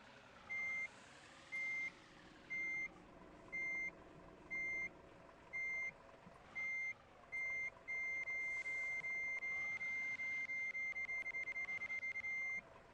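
Truck reversing beeps in Truck Simulator Ultimate: regular spaced electronic beeps over a low engine hum, then a long unbroken alarm tone near the end, clear and moderately loud.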